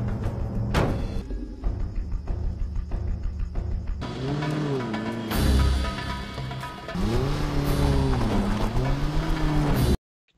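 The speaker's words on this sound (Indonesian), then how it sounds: "Di sana dia berusaha menghidupkan sebuah mobil tua agar bisa menjauh dari kejaran mereka." Old car engine cranking and starting in a tense zombie-film chase scene: rough, grinding turnover bursts, then a loud engine that catches and revs in rising, falling surges alongside dramatic score before an abrupt stop.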